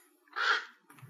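A single crow gives one short, rasping caw at a distance, faint and alone against quiet background.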